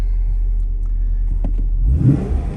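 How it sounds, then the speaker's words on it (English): A Holden Commodore SS-V Redline V8 idles with a deep, close low rumble, then is blipped into a short throaty rev near the end. "Listen to that V8."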